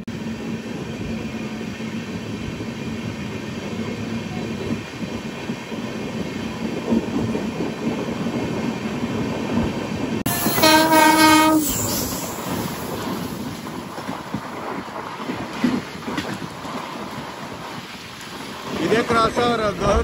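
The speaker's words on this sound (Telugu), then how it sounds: "ఆ ట్రైన్తో క్రాస్ ఓవర్ అయితే అవుద్ది" Bengaluru–Guwahati train passing at a crossover, heard from aboard another train: continuous rumbling rail noise and wind, then a long loud horn blast midway, with clattering wheels and brief voices in the background.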